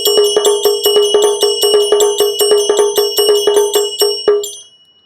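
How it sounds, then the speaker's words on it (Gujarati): A mini aarti machine plays rapid temple bell strikes, a loud, evenly paced ringing of about five strokes per second that stops abruptly and fades out. "7 મંત્ર આપેલા છે, સિવાય એમાં શંખાઈ વાગે, મોરે વાગે, અને બાકી નગારા ને ઝાલર ને ડંકા ને એવું તો છે જ."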